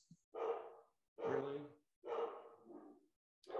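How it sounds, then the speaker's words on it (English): Dogs bark indoors, four loud separate barks spaced about a second apart, close by with no talking over them. "my dogs are barking"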